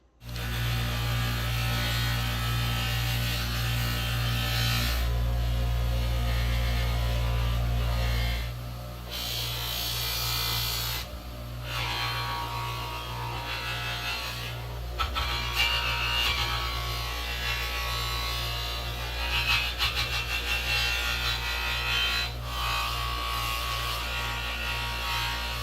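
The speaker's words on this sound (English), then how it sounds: "Next, I'll go to the medium and fine polishing compound, run it on the wheel" A buffing wheel running medium and fine polishing compound against a chrome part, a steady motorized hum and whine with low mains-like drone throughout, surging and easing as the part is pressed to the wheel.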